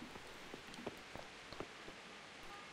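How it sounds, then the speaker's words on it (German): Steady rain falls in a medieval video game world, a soft continuous patter with scattered brief drop ticks throughout, no voices over it. "Übrigens regnet es schon 4 Tage durch."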